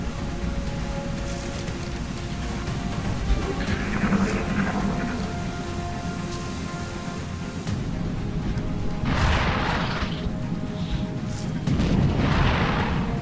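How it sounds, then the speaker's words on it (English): A smoke grenade thrown in XCOM: Enemy Within lands as a pair of broad, hissing bursts near the end, set over a steady rumbling game ambience with no talk. "This is a perfect time for a smoke grenade."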